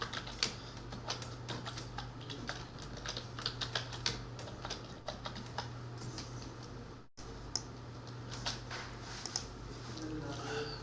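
Password typed on a computer keyboard, bursts of quick, close key clicks with short pauses between groups, over a low steady hum, no speech.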